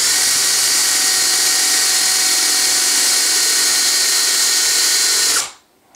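A power drill runs loud and steady for over five seconds, boring out holes in the metal receiver of a Saiga 7.62 rifle during a conversion, then winds down and stops, with no talk.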